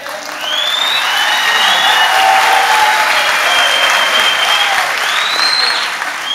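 A television studio audience on a Turkish comedy show bursts into sustained, loud applause mixed with whistles and cheers, a dense wash of clapping that holds steady for several seconds before easing slightly.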